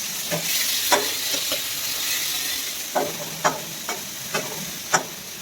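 Food frying in a pan with turmeric and salt, a steady close sizzle with several scraping stirs of a spoon at irregular moments and no talking.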